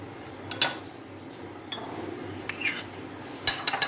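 Tapioca pearls spooned into drinking glasses, with a few light clinks and taps of a spoon against glass, scattered and close, over a quiet room.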